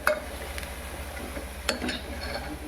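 Masala with turmeric is stirred in a pan for misal pav, a soft scraping with a few sharp clinks of spoon against metal over a low gentle sizzle, close and fairly quiet.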